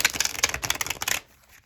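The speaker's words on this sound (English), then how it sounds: "shuffling the Make Playing Cards copy" A deck of tarot-style playing cards is riffled quickly and close up, making a dense flurry of crisp snaps for about a second before settling into quiet.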